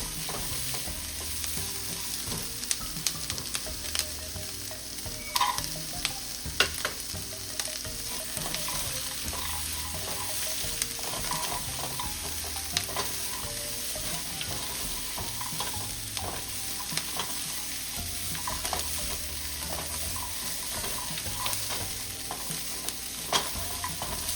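Chicken pieces fry and get stirred in a hot pan for Kung Pao chicken, a steady close sizzle with scraping stir strokes recurring throughout, no voices.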